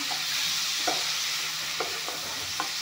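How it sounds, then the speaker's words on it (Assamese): Tomatoes and chilies fry in a pan with a constant sizzle, broken by a few scraping stirs of a spoon. "এইখিনি অলপমান ভাজি ল'ম।"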